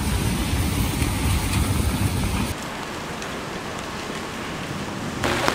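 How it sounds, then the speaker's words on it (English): Heavy rain pours down steadily outdoors, a loud dense hiss that drops to a softer, more distant patter partway through, with no voices. "Yep, it's raining very heavily"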